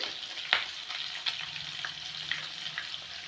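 Chopped green chillies hitting hot oil in a pan for a chapati tempering, giving a steady close sizzle with a few sharp crackles and spatters scattered through.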